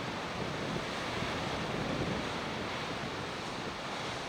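A constant roar of sea waves washing against a rocky pink granite coast in Brittany, mixed with wind rumbling on the microphone, loud and unbroken throughout.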